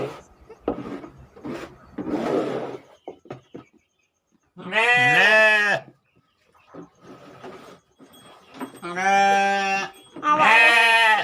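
Goats in a livestock pen bleat loudly in several separate harmonic calls, mixed with softer rustling and rubbing noises in between, with no talking.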